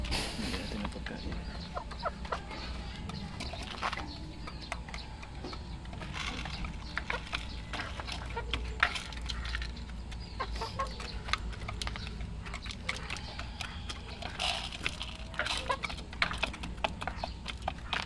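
Hens from a fighting-rooster flock cluck and peck around a farmyard, a dense run of soft clucks and sharp ticking pecks continuing throughout at moderate distance.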